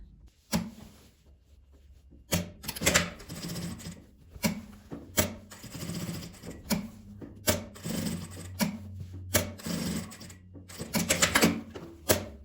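A sewing machine stitches a label and strap onto a multi-pocket fabric pouch, running in short rattling bursts separated by brief pauses, loud and close.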